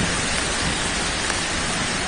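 Cyclone Nisarga brings storm rain and wind to Maharashtra as a loud, continuous, dense rushing wash with no break.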